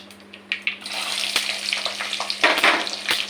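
Shallots (sambar onions) frying in oil after mustard seeds for a dal rice sambar, a close, loud crackling sizzle with sharp pops and stirring scrapes, no voices.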